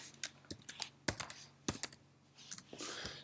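A computer keyboard is typed on up close in short irregular clusters of sharp clicking keystrokes, fairly quiet, with pauses between and no talking.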